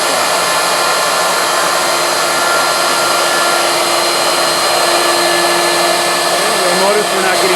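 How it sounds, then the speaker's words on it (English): A CNC router cuts a pocket in wood with the dust collection running, making a loud, steady, continuous whine and roar with sustained tonal hum throughout, no pauses. "this is what it looks like when it's actually cutting. Okay? Dust collection is on. There's lots of noise."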